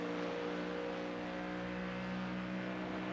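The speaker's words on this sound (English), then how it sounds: "We're going to leave you on board with a car, so turn up your speakers, enjoy the sounds" Race car engine heard from onboard during the RCi Endurance Championship 6 Hours at Watkins Glen, a steady droning hum with a sustained pitch throughout, held fairly even and moderately loud.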